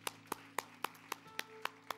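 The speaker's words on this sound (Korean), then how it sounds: "우리 하나님께 감사와 영광의 박수를 드리겠습니다" A church congregation claps in a slow, even rhythm of about eight sharp, separate claps, faint and roomy, over a low sustained hum.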